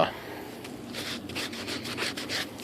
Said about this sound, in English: just a little sanding pad.